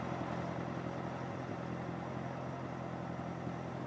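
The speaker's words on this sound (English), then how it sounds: "Then we'll see the tractor run here." A 1951 Farmall Cub tractor engine runs at a steady idle, a smooth, unbroken rumble with a faint clattering texture.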